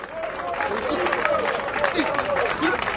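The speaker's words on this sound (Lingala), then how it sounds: "Vous acclamez, vous dites bravo l'artiste" Applause and cheering for an artist at a memorial gathering, steady clapping from a crowd with a loud voice speaking over it throughout.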